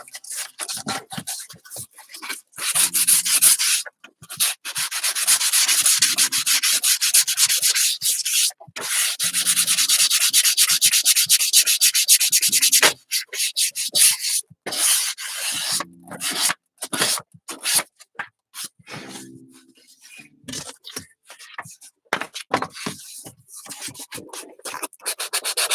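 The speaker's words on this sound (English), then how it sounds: "I've got some 220 grit sandpaper." Sandpaper of 220 grit is rubbed briskly along a painted, spackled edge, a close, dry scratching in uneven bursts with short pauses between strokes.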